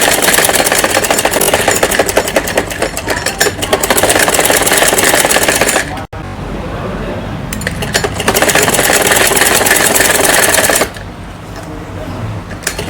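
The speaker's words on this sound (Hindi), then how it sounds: "यहाँ पर 5 इंच पर सिलाई लगाएंगे आस्तीन पर" A sewing machine stitches a sleeve seam on a child's night suit. Its rapid, close whirring comes in long continuous runs broken by two short pauses.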